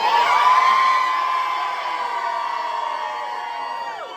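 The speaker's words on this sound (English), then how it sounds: "can I hear that Lynda scream one more time?" Concert crowd screaming and cheering loudly in a sustained high roar for about four seconds, near and dense, fading slightly toward the end.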